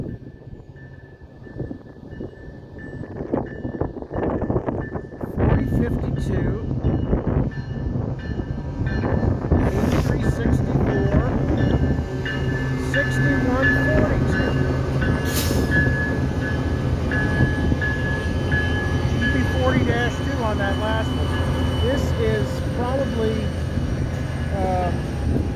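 A long southbound CSX L425 freight train rolls past on track two at Connersville, a steady loud rumble of wheels and cars that builds and holds throughout, with a horn-like tone and squeals, and brief voices early on.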